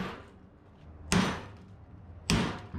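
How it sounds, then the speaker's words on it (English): A hammer strikes a metal part of a 1977 Datsun truck in a workshop, two sharp loud clanging blows about a second apart, close by, with a faint background hum between them. "Smacked her that away a couple times."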